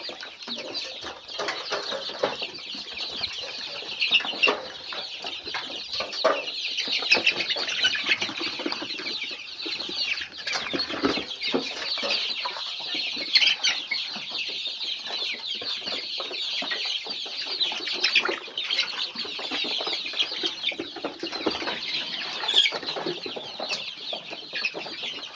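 A flock of layer chickens, about four weeks old, clucks and squawks continuously during vaccination, a dense, loud chorus with occasional wing flaps and no talk.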